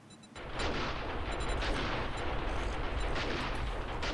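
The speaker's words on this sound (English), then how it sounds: "those turrets are going off over there" Automated turrets in 7 Days to Die fire a dense, continuous burst of rapid gunfire at a moderate distance, which rattles steadily for several seconds without a break.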